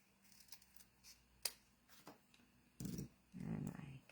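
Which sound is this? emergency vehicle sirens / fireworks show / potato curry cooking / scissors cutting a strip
scissors cutting a strip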